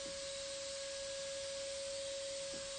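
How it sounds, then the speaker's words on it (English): A vacuum cleaner runs in the background as a steady, broad hiss with a constant whine, even and unbroken throughout, fairly faint, with no talk. "I hear the vacuum in the background."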